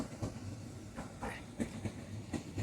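Trains run on two parallel rail lines, giving a rhythmic clickety-clack of wheels over rail joints, moderately close and steady with regular thumps.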